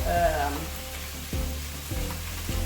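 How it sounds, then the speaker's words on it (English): Chicken tenders fry in about a teaspoon of olive oil in a skillet, sizzling steadily and fairly close, with faint tonal background sound and a few soft knocks. "about a teaspoon of olive oil into my skillet, and I'm just cooking the tenders"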